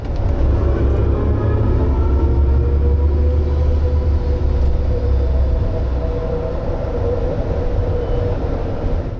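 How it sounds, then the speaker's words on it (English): Futuristic synthetic acceleration sound from a 2024 Mercedes-Maybach EQS Night Series electric luxury SUV, a loud, steady sustained hum with rising tonal layers over low rumble, continuous throughout with no talking. "you get a similar sound if you accelerate. Feels like a spaceship taking off."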